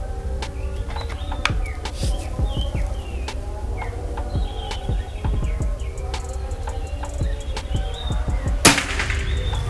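Birds chirp and insects drone steadily outdoors until one sharp, short PCP air rifle shot cracks late in the clip.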